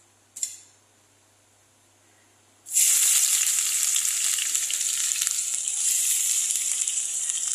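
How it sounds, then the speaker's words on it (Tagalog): Onions hit a hot oiled pan with a brief clink, then a loud, close, steady sizzle and crackle of sautéing takes over and continues unbroken, with no talking. "Igisa muna natin yung sibuyas."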